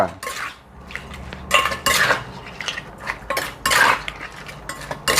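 Plates and cutlery clatter and clink as dishes are set out for serving spicy papaya salad with crab and fermented fish, a run of sharp close knocks and scrapes with short gaps between them, no voices.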